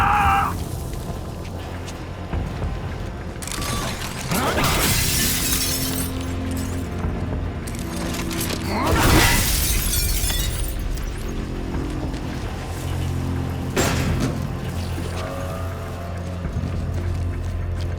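Glass cases smash in the sci-fi horror game The Callisto Protocol, several sharp shattering crashes spaced apart over a low rumbling industrial background.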